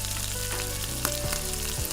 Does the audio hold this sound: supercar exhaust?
no